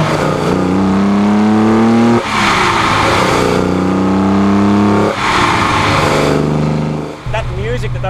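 A 1972 Holden XU1 Torana race car with carburetors revs hard, its loud engine climbing in pitch through repeated pulls, each rise broken by a sudden drop before surging again.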